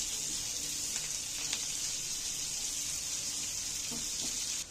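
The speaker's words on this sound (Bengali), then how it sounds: "পেঁয়াজগুলো আমি একটু নাড়াচাড়া করে একটু ভেজে নেব।" Chopped onions fry in a pan for an egg recipe, a steady bright sizzle that holds evenly, with a few faint clicks and scrapes as they are stirred.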